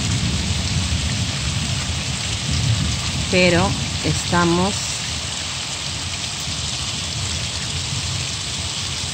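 Steady heavy rain falls during a thunderstorm, heard from a balcony in Guadalajara, Spain, a dense constant hiss throughout, while a person speaks briefly near the middle.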